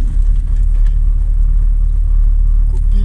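Inside a small old Ford car, the engine holds a continuous deep rumble as it drives, steady and close, with no voices.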